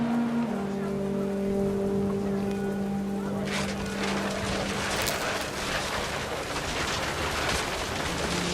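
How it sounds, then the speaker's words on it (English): Heavy rain pouring down in the video game What Remains of Edith Finch, a dense steady hiss of drops on surfaces that thickens midway, with low sustained musical tones underneath. "The rain came down in buckets then"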